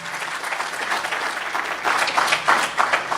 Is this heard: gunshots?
no